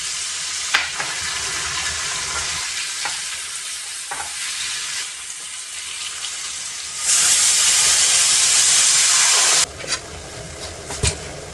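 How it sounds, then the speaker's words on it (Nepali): Potatoes fry in a pan for gravy, a steady close sizzle with occasional spatula scrapes and clatters, swelling into a louder hissing burst partway through before settling back. "आलु फ्राई हुँदैछ"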